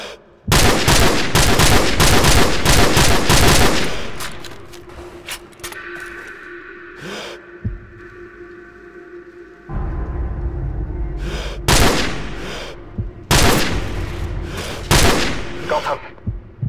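Dense bursts of gunfire from Call of Duty 4: Modern Warfare crackle loudly, then give way to scattered shots and rattling fire, with voices in between.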